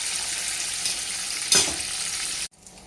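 Steady sizzling of oil frying in a pan for ivy gourd fry curry, continuous and fairly loud, with a brief louder surge midway as ingredients are stirred, then a sudden drop near the end.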